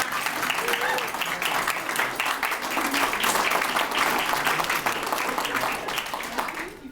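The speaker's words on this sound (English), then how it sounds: "You may applaud now." Gala audience applauding: sustained, dense clapping from a full room rises quickly and holds steady for several seconds, with a faint murmur of crowd voices mixed underneath.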